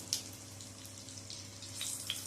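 Whole cumin seeds and two dried red chillies tempering in hot oil, a faint, short crackling sizzle with a couple of brief spitting pops.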